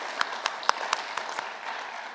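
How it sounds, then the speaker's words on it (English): Light applause at a college of business innovation competition evening, a few distinct claps ringing out over a thin, quiet spread of clapping from a modest audience. "And also one more round of applause for Carla Treadway for all of her hard work"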